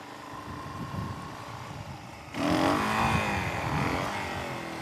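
A Suzuki DRZ 400E motorcycle engine drones steadily while riding a country road, then rises in pitch and loudness halfway through as the throttle opens, with heavy wind rush throughout and no talk.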